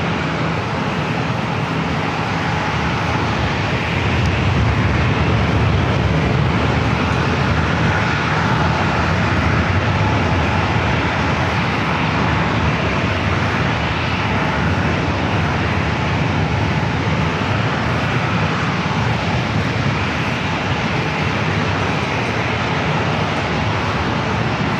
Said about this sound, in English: Delta 620, 127, clear for takeoff.